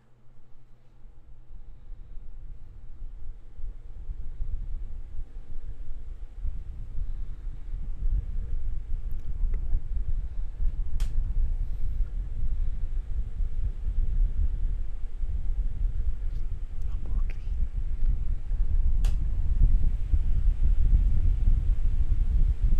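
A Hanabishi electric fan runs steadily near a Maono DM30 USB condenser microphone, giving a constant low whooshing rumble throughout with no talking.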